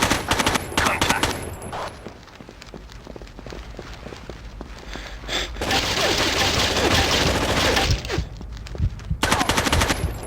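Rapid automatic gunfire rattles through a firefight in Tom Clancy's Rainbow Six 3 on the Nintendo GameCube, with dense bursts of shots, a heavier sustained volley midway and more shooting at the end, loud and close.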